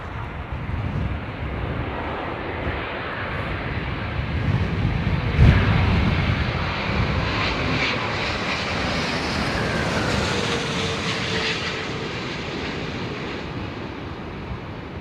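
Airliner on final approach to land at London Heathrow with its engines under auto throttle, a steady broadband roar that holds throughout at moderate distance, with a brief louder surge partway through and no talk.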